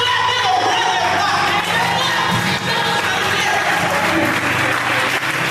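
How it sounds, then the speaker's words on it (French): A church seminar congregation acclaims the King of Kings with loud, sustained applause, cheering and shouts, a dense crowd roar filling the whole stretch with no pauses. "C'est le moment où il faut acclamer au roi des rois."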